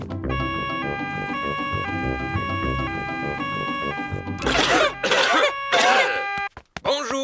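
Cartoon pigs in Peppa Pig cough in a doctor's waiting room: several loud, rough bursts near the end, following bright jingly music with chime-like tones.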